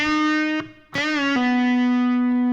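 An electric guitar plays a sustained note, a lull, then a string bent up and back down and pulled off to a lower ringing note that sustains, in a lick from a guitar solo.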